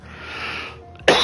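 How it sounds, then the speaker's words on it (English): A single short, sharp cough bursts out at the end after a quiet stretch, close and loud. "I've been coughing a little bit lately"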